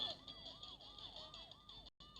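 A wailing police siren in the video game Zombie Tsunami sweeps up and down in steady repeated cycles, continuous and fairly clear, cutting off abruptly near the end.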